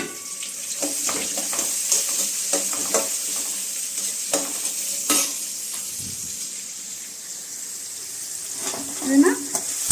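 Sliced onions and curry leaves fry in a pan, a continuous sizzle broken by frequent scraping and clattering stirring strokes, fairly close and moderately loud, with no talking.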